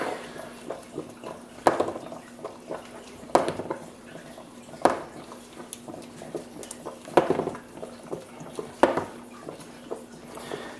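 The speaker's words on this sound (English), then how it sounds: "Just use an ordinary screwdriver, nothing fancy here, and just push them through." An ordinary screwdriver pushes bullets through a cake of pan lube softened with petroleum jelly, giving a series of sharp, close taps and clicks spaced a second or two apart, with soft squishy handling noises between them.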